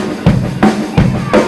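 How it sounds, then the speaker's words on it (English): Rock drum beat with four evenly spaced, punchy hits carrying a steady groove, close and fairly loud with no other sounds. "So if I played a rock beat"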